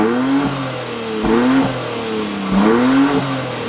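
Inside a BMW X4 M Competition in Sport Plus mode, the engine drones and rises through rev swells and gear changes, a muted cabin hum with rhythmic pitch climbs and dips.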